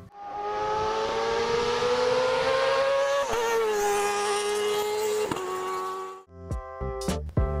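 A Kawasaki ZX-25R, the four-cylinder 250cc sport motorcycle, holds a loud high-pitched rising engine howl that climbs through revs with short shift breaks, then ends in sharp blips and crackles.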